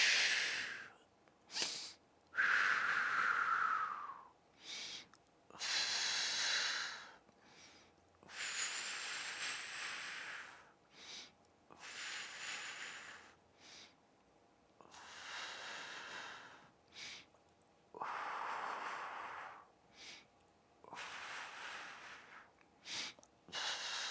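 Heavy, rhythmic breathing during a mat Pilates exercise, with repeated audible inhales and forceful exhales, some snort-like, close to the microphone and spaced in short bursts with no talking.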